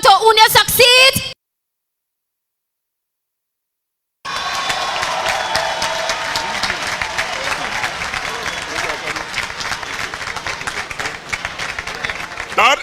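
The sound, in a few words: audience applause at university commencement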